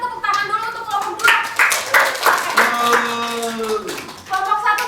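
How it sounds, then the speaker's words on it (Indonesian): Classroom applause for a student group during a microteaching lesson, a short burst of clapping from pupils mixed with children's voices and an adult talking over it. "sebelumnya kita tepuk tangan dulu untuk kelompok 2."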